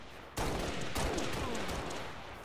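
Shotgun fire in a video game: a loud blast with a sudden onset, another shot a moment later, then echoing gunfire that rings out and slowly dies away.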